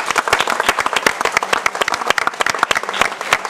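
Warm audience applause for a Greek cultural association from Kozani, dense and loud sharp claps in an irregular crowd patter, continuing alone without talk.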